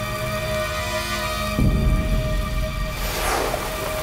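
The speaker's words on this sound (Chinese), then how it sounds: "这雨还下着呢" Steady rain falls as a continuous broadband hiss throughout, with a brief rumble partway through and a faint swelling whoosh near the end.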